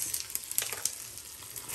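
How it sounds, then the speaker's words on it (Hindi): Tadka of tempering spices for black masoor dal sizzles in hot oil, a close, bright crackling hiss with quick popping spatters, with no voices. "क्या तड़का लग रहा है क्या?"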